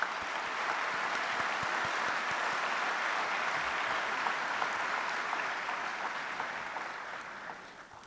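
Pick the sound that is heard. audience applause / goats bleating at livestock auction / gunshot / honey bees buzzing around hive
audience applause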